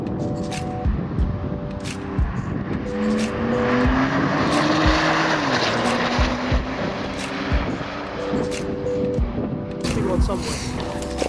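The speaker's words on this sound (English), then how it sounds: "to watch some cars go around" Cars lapping the Goodwood race circuit during a trackday, engines rising and falling as they pass at a distance, with a steady broad roar and a droning pitch sweep in the middle of the run.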